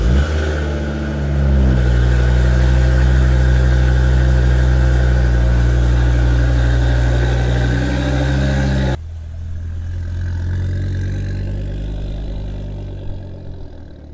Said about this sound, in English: So that means a cold start on the RS.